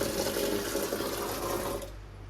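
Water running steadily from a tap into a container at home, a loud continuous rush that suddenly drops off near the end.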